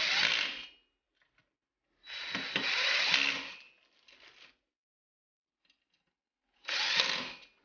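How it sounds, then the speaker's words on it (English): A power drill whirs in three separate bursts, close by, driving screws with washers while fitting the blades of a 52-inch ceiling fan, with short silences and a few faint clicks in between. "then use a drill."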